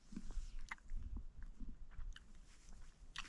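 A fridge-cold Cadbury's Whisper chocolate bar being bitten and chewed outdoors at a winter wild camp on Dartmoor, with crunchy bites and close, soft mastication sounds that come and go over faint background noise.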